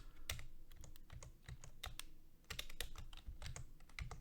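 Fingers typing a cd command on a computer keyboard, a quick run of close, crisp key clicks in irregular bursts with brief pauses, quiet and alone without speech.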